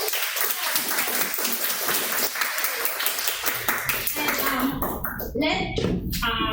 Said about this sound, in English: please give a big round of applause for all